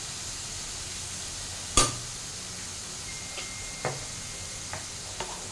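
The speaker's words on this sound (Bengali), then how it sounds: "এবার এটা আবারও ভালো করে একটু ফ্রাই করে নেব" Hakka noodles stir-fried in a pan on a raised gas flame give a steady, even sizzle, with a sharp spatula clack near the start and a few lighter taps afterward.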